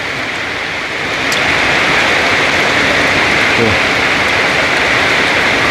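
Heavy rain pours down in a dense, steady hiss outdoors, growing louder after the first second and holding a constant roar, with no voices.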